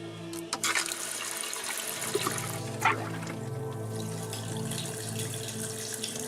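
Water runs steadily from a tap with a continuous hiss and splash, broken briefly by a few louder gurgles near the start.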